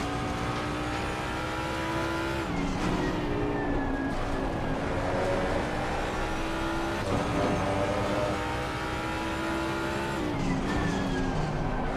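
A race car in a racing game at Monza brakes and its engine revs shift in pitch, with a loud, steady engine drone and some tire noise that fill the whole stretch.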